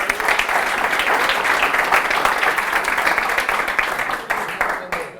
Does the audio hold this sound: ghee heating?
no